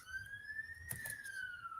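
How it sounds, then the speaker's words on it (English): An emergency siren wails outside, a steady high tone sweeping slowly up and down, heard from a distance through a room, with a brief knock or bump partway through. "There's a siren outside."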